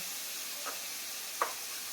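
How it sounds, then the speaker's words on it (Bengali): Soybean chunks fry in white oil with cumin and five-spice seeds, giving a steady, fairly quiet sizzle and hiss with two brief louder pops. "সয়াবিন গুলো একটু তেলে ভালো করে ভেজে নেব।"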